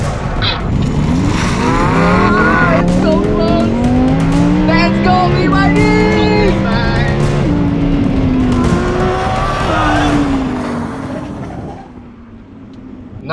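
Drag race between a BYD Seal electric sedan and a Lamborghini Huracan with a 5.2-litre engine: a loud, sustained engine roar climbs through rising gear-change sweeps as the cars launch and accelerate, fading away near the end.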